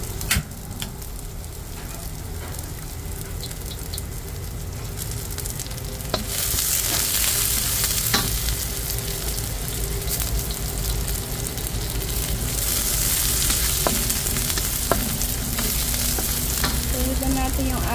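Onion fries in a pan over strong heat with a continuous sizzling hiss that grows louder and brighter partway through, punctuated by occasional stirring scrapes, with no voices.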